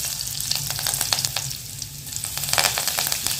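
Cumin seeds, curry leaves and hing crackling in hot oil as a tempering for stuffed brinjal, with a dense sizzle, sharp popping bursts and a few stirring scrapes.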